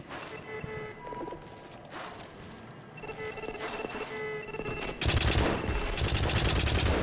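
Turret gunfire in the video game White Knuckle, rapid bursts of game shots layered over a busy soundtrack, growing louder and denser toward the end.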